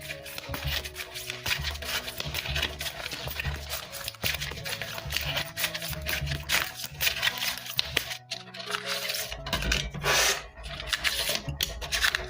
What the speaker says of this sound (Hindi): तो शुरुआत करते हैं कार्ड शफल करके।